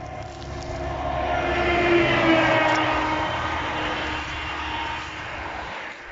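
Cars passing on the DK20 road in Poland, a broad rushing traffic roar that swells as vehicles approach and go by, then fades and rises again, moderately loud from the roadside with no talking.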